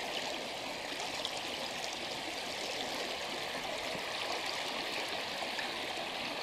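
A creek on the South Valley Trail in Prince William Forest, heard at water level among rocks. The flow rushes and gurgles steadily and fills the scene, with no voices.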